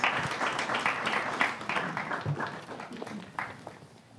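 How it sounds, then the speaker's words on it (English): Audience applause at a student union election question time, a scattered, moderately quiet patter of clapping in a hall with uneven bursts rather than a dense roar. "please, a round of applause for them as they go back to their seats"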